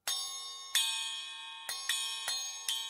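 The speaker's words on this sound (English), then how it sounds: "These two little cymbals I have here are actually old Zildjian cymbals cut down to size" Two small chimes made from old Zildjian cymbals cut down to size, struck one at a time, each giving a bright, shimmering ring that lingers; six strikes at uneven intervals, close and clear with no talking.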